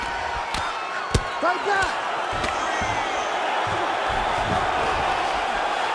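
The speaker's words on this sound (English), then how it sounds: "Huge response from the crowd." Crowd noise from a UFC 5 women's bout between Ketlen Vieira and Josiane Nunes, a steady broad roar with scattered shouts and whoops rising briefly, under a commentator's brief remark.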